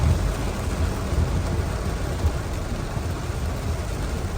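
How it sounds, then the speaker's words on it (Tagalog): Heavy rain pounding steadily on a surface with deep rolling thunder, a dense, loud, unbroken roar of downpour in the Philippines, with no voices. "Lakas ng ulan."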